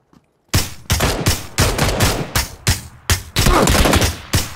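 Gunfire in the battle royale game PUBG: several loud bursts of rapid automatic shots, close by, separated by short pauses over a few seconds.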